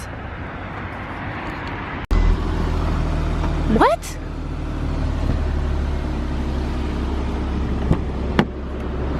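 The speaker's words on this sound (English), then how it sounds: "Let me start the car and see." A car engine turns over and settles into a steady low idle, running close by throughout, with a brief voice heard over the engine noise.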